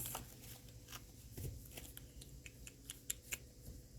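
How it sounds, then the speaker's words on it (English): Tarot cards shuffle in quick, light riffles and taps, close and quiet, with soft papery clicks scattered over a few seconds. "Hey, shuffling cards."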